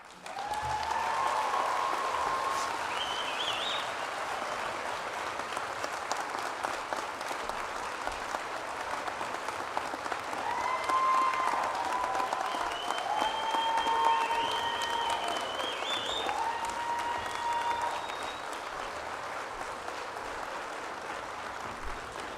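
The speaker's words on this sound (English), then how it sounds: "all these people standing and clapping for you." A commencement crowd stands and claps at a university spring graduation ceremony, producing sustained, steady applause for over twenty seconds. Faint voices and cheers rise in the mix.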